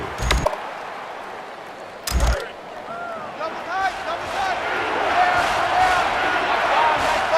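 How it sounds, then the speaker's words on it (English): Roaring stadium crowd at a college football game, Wisconsin against Ohio State, a dense sustained wash of noise that swells steadily, with a couple of sharp thuds early on. "It's arguably the loudest crowd in the nation, and they are turning it up a notch."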